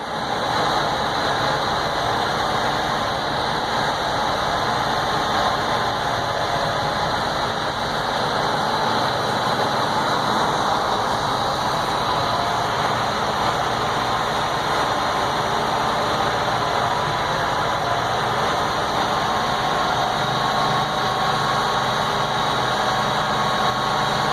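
A truck engine idles steadily during an air system test, its rough hum running continuously and loud at close range, raised slightly in pitch throughout with no voices.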